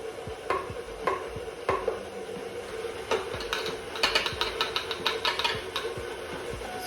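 An electric stand mixer creams butter and sugar, its steady mechanical whir running under quick rhythmic clicks and ticks that grow busier toward the end, close and fairly quiet.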